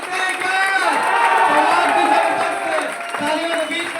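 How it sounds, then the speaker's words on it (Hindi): A large crowd at an RCM business event in Nawada, India, claps and cheers loudly and steadily for a few seconds, with voices shouting within the roar. "एक बार तालियां बजा के दिखाइए।"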